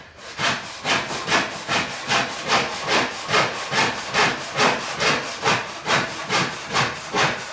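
A crosscut hand saw cuts through a 2x4 in steady, even rasping strokes, about two per second, close and clear with no talking.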